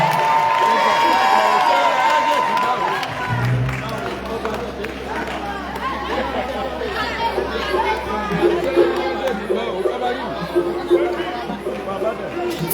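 A concert crowd at the Palais de la Culture cheers and shouts in acclaim for Jesus, a loud, sustained roar of voices and some clapping, with music and a speaking voice mixed in.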